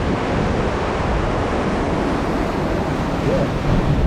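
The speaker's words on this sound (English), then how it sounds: "Sea is quite choppy today." Choppy Atlantic Ocean surf breaks around a pier at Swakopmund, with a constant loud roar of rough water mixed with heavy wind buffeting the microphone and no pauses.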